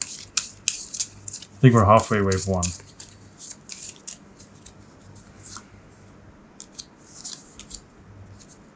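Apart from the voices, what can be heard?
shuffling a deck of cards for a board game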